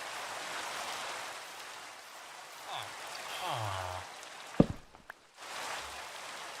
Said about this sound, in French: Alors, c'est pas un orage, mais c'est de la pluie.